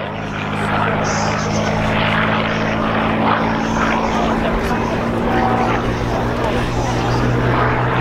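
A Hawker Hurricane propeller fighter landing at the Dunsfold Wings & Wheels show, its engine a steady, loud droning roar throughout with faint crowd noise beneath.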